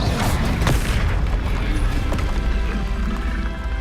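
Fiery explosion from the Confringo spell in the Hogwarts Legacy video game, a loud booming blast with dense rumbling debris that fades over a few seconds, heard alone.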